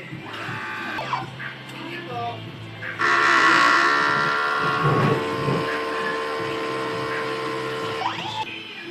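A printer runs its print head cleaning cycle, a loud steady mechanical whirring and pumping that kicks in partway through and continues to the end, with faint background voices.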